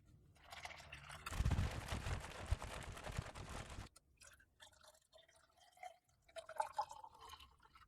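Water poured into a US military First Strike Ration MRE drink pouch, a steady close splashing fill for a few seconds, then quieter trickles and rustling of the pouch.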